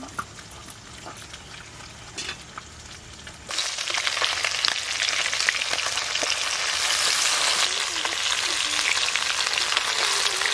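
Small fish frying in a pan for a small fish curry with green peas, quiet at first and then a loud, continuous crackling sizzle that starts abruptly and holds steady, close by.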